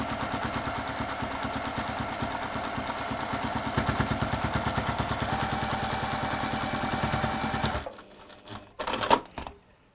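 A domestic sewing machine top-stitching round the edge of fabric runs in a steady, fast mechanical rattle for about eight seconds, then stops, leaving a few faint clicks and handling noises.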